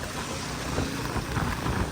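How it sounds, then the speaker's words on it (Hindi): Loud, steady wind from a thunderstorm in Karachi buffeting the microphone, a dense roaring rush with no voices. "ये बहुत तेज़ हवा है"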